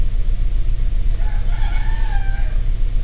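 A rooster crows once at 4 a.m., a drawn-out cock-a-doodle-doo standing out over a steady low rumble of background noise, fairly clear but not very close.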